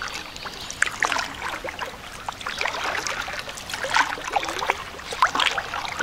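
Kayak paddling along a shallow stretch of the Swatara Creek during dry conditions, with irregular paddle splashes and drips over a light trickle of moving water, close and moderately loud, with no speech.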